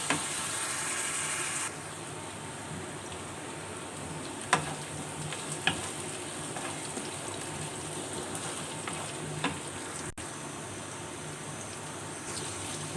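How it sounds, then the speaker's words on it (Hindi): Onions sizzle and fry in a pan over low heat for a brinjal and potato curry, a steady close crackle with occasional sharper pops and a brief stir, no voices over it. "प्याज जो है गोल्डन गोल्डन ब्राउन हो चुके हैं"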